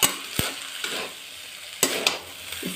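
Paneer matar pulao is stirred in a kadhai, with sharp scraping strokes of the spoon against the metal at irregular intervals over a soft sizzle, close and clear, with no talking.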